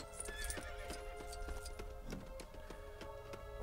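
A horse in the Lego Lord of the Rings video game trots with rhythmic clip-clop hoofbeats and lets out neighs, steady and clear throughout.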